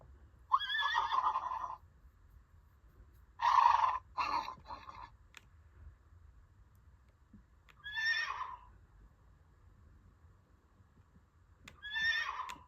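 A Unicorn Academy Wildstar light-up toy horse gives several electronic neighs and whinnies, four separate bursts spaced a few seconds apart, loud and close with quiet gaps between.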